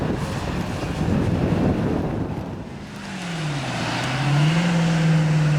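A Chevrolet Camaro 4.3 race car climbs at a hill climb, its engine rising from a distant roar to a strong, steady pitched drone as it approaches, mixed with wind buffeting on the microphone.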